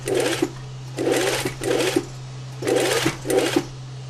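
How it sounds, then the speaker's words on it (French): A sewing machine stitches a trouser hem with a small tuck, running in five short, even bursts of rapid whirring stitches separated by brief pauses, close and clear over a steady low motor hum. "j'ai cousu mon ourlet avec une petite nervure"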